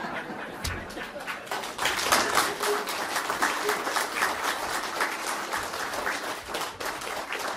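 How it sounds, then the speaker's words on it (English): Applause from an audience of ladies and gentlemen at the end of a talk on street names in Stornoway, building up after a moment into a full, steady round of clapping that continues evenly to the end. "thank you, ladies and gentlemen, for the applause there"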